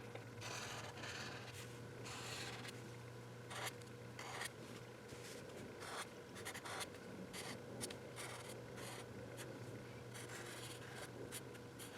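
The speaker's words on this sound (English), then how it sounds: "Notice how I'm inking in some folds of the fabric" Pen inking fabric folds on a cartoon drawing of Lucky from Lucky Charms, a steady close scratching and rubbing on paper with short strokes throughout over a low constant hum, no talking.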